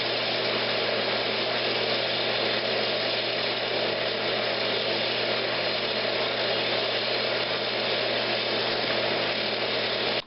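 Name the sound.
woodturning lathe cutting off tenon of ornament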